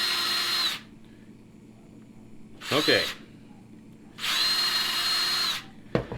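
A power drill bores pilot holes while a phone camera jig is being modified, with two sustained whining runs and a shorter one between them, close and loud, plus a final brief whir and a short spoken word.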